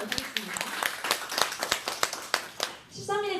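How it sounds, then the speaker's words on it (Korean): An audience at a diet seminar claps in a quick, fairly even rhythm for a few seconds, close and crisp, before a voice starts speaking at the end. "우리 박수 한번 하고 시작을 하도록 하겠습니다"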